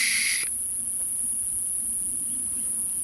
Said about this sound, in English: Can you hear the cicadas?